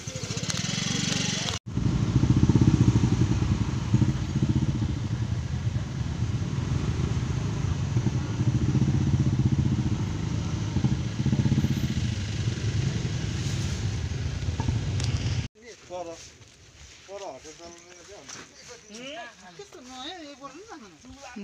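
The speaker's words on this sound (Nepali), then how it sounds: "बाइक स्कुटी सबै जाममा फसिरहेछ" Motorcycles and scooters idle and creep through a packed traffic jam during Ram Navami, with a continuous low engine rumble for about fourteen seconds that then gives way to people talking.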